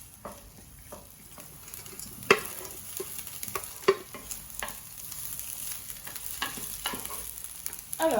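Bacon lardons fry in a pan with a steady crackling sizzle, broken by sharp spatters and stirring clicks at irregular moments, close and fairly loud with no talking.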